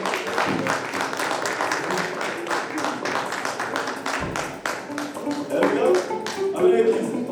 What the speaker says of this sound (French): C'est votre applaudissement.